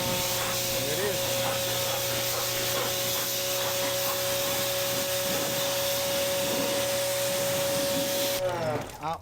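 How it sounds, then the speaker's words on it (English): A pressure washer sprays the engine bay of a 1994 Fox Body with a 351W V8, giving a loud steady hissing rush with a pump whine underneath that cuts off just before the end; a voice talks faintly beneath it. "I know everybody's gonna say, yeah, but the pressure washer cleaned it."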